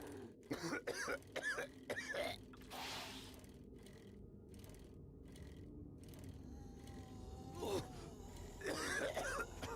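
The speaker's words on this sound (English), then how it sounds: "That sounds so bad when you're coughing in this biome." A game character coughs repeatedly in a toxic biome in 7 Days to Die, delivering several harsh, close coughs and throat-clearing grunts in bursts at the start and end, with quieter ambient rumble between.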